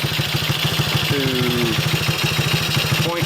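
A Tao Tao 110 Chinese four-wheeler with a new starter, carburetor and spark plug idles in a steady, fast, even chug, close and loud, with a brief word spoken over it.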